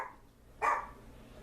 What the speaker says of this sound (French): mon chien jappe en haut